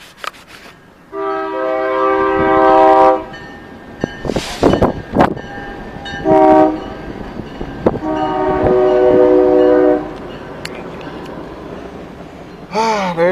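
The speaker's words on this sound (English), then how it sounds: "there's your train" Train horn blasts in long harmonic bursts as a train passes outdoors during a storm, with rumbling and clatter between the horn blows, a voice briefly audible, and a sharp sound at the very end.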